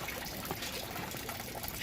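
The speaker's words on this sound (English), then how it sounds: "It drips down to the lower bin." Water from a bell siphon in an aquaponics setup trickles steadily into the lower bin, a faint, continuous splashing and dribbling heard alone without any voices.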